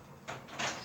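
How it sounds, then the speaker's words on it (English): A door is pushed shut indoors, two short sliding bursts of friction noise in quick succession, fairly quiet against a low background hum. "So, Sasha, close the door."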